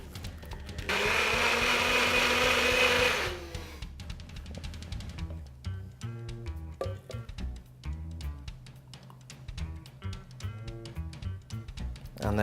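A bullet blender whirs loudly for about two seconds while blending a protein smoothie, then cuts out, leaving rapid clattering and tapping as the cup is handled and unscrewed.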